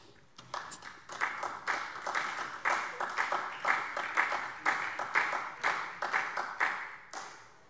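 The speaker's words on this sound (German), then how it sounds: "Sie entnehmen es dem Applaus." Applause rises in a parliament plenary session as a regular series of distinct claps or desk knocks, repeating about every third of a second at moderate loudness, with no talking.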